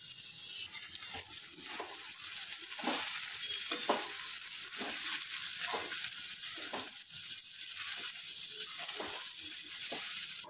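Poha frying in a pan with cooked cauliflower, stirred in a steady rhythm of soft scraping strokes over a continuous close sizzle, with no talking.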